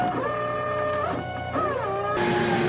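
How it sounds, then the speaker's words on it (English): A greenBull CNC machine with a laser/spindle hybrid head cuts taped basswood, giving steady whining tones that rise and fall in pitch over a constant loud vacuum roar. "Here we have the tape on and we also have the vacuum running."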